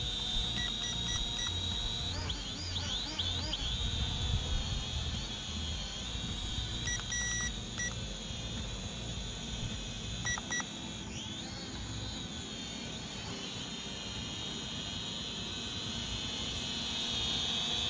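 An Eachine E58 drone in flight gives a steady, high-pitched motor whine. The pitch wavers and dips briefly as it maneuvers, running continuously with no talking.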